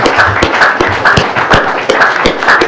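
Applause at the close of a French conference session, a steady wash of clapping from a seated audience, moderately loud and continuous with no talk over it.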